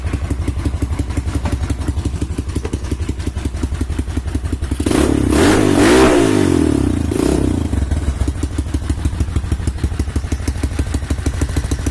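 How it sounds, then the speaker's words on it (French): A 125 motorcycle engine chugs with a fast steady idle, then is revved in a couple of loud surging bursts before settling back to a rhythmic idle, close by with no talking. "Le moteur, tiens, attends, je vais essayer de te la démarrer."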